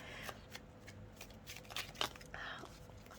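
Tarot cards shuffled by hand, giving soft papery riffles and flicks in quick irregular bursts, close and quiet.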